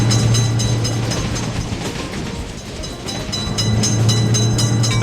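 A train passes a level crossing in a railroad-crossing video game: a loud, steady rolling rumble with a low droning hum that dips slightly midway, then swells again. No voices.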